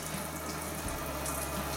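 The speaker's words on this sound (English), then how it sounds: "At the minute we're just using warm water, and this will get the majority off." Warm water pours steadily through a Zanussi tumble dryer condenser being cleaned, a loud, continuous tap-like rushing and splashing close by, unbroken for the whole stretch.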